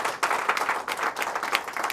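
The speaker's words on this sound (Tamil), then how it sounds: "நல்லா நல்லா சவுண்டாக கைத்தட்டலாம்." Loud, dense clapping from an audience fills the whole stretch, with a short dip near the start before it rises again and continues steadily.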